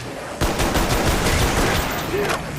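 Dense burst of M14 rifle fire in a video game, loud rapid shots starting abruptly and continuing steadily for a couple of seconds, close and alone without talk.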